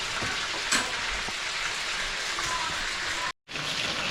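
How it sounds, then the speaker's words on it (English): Pacu fish frying in a pan on a home kitchen stove, giving a steady, dense sizzle with occasional pops and a brief cut near the end; someone speaks softly beneath it. "So the fish is frying up there."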